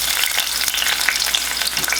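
Red and orange peppers dropped into hot oil crackle and sizzle loudly up close, a continuous bright frying hiss with small pops and the scrape of stirring, no voices.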